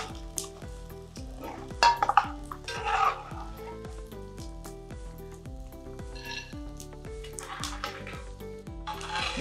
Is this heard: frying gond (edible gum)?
yes